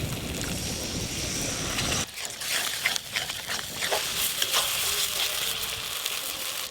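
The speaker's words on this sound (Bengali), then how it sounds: "এবার পুরো গ্রেভিটা আমি তৈরি করে নেবো এইভাবে নেড়ে নেড়ে।" Egg curry gravy being stirred in a pan, a close crackly sizzle with scraping strokes of the spoon that grow busier partway through and continue steadily.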